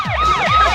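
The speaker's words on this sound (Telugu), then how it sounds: "పోలీస్ సైరన్ కూడా వినిపిస్తుంది" A police siren wails in rising and falling sweeps, loud and close, heard alone for under a second.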